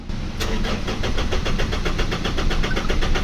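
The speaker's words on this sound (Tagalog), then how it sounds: "Ibalik natin pandarin ang makina." A Mitsubishi Strada pickup's engine cranks repeatedly without catching, the starter churning in a fast, even rhythm after a sharp click, close and steady for a few seconds.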